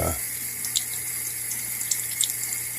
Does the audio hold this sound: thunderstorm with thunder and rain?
no